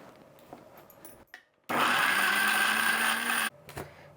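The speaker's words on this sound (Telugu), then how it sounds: "మిక్సీ పెట్టేద్దాం." A kitchen mixer grinder grinds fennel into a masala paste, a loud, even whirring burst lasting about two seconds that starts and stops sharply, with quieter kitchen handling sounds before and after.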